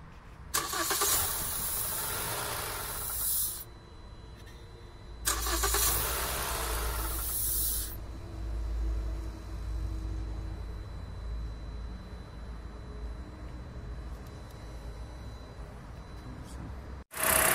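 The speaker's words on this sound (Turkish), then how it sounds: "Şimdi arabamızı çalıştırıyoruz." A car engine is started during a throttle body cleaning job with a Liqui Moly cleaner, giving two loud bursts of cranking and firing. A steady idle follows, with people talking faintly in the background.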